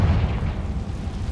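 Hogwarts Legacy video game: a short, deep blast from the Confringo spell, a single booming explosion that rumbles briefly and fades.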